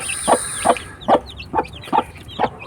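Newly hatched chicks call close by in a quick series of about six short peeps and soft clucks, evenly spaced and fairly loud over a faint background hiss.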